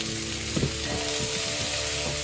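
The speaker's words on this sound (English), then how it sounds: "Put it all in, don't waste any, and get it all in your frying pan," Steady sizzling of peppers, ginger and garlic frying in a hot pan, with a few soft stirring knocks and scrapes mixed into the constant crackle.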